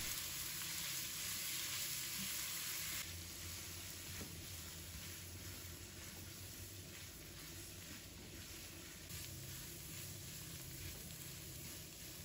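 Tofu skin, garlic scapes, wood ear fungus, seafood mushrooms and eggs stir-frying in a wok give off a dense, steady, close-up sizzle and hiss that eases slightly after a few seconds, with no talk.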